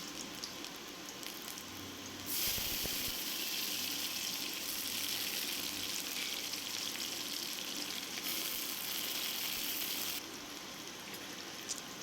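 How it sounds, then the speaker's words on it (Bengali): Chopped garlic and onion fry in a pan with a close, steady sizzle. The sizzle swells suddenly as if stirred or the heat rises, holds loud for several seconds, then settles back to a softer crackle. "এরপর আমি রসুন আর পেঁয়াজটা একটু লাল লাল করে ভাজা হয়ে গেলে"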